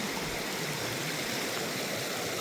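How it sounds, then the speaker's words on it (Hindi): Clear water streams and rushes steadily beneath a house, a close, broad and continuous flow with no voices over it. "इस मकान के नीचे से पानी गुजरता है"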